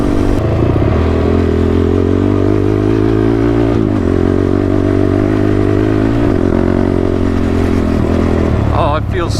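A Honda TRX ATV fitted with a new exhaust runs loud and close, a steady throbbing engine note with a few changes in pitch as it is revved.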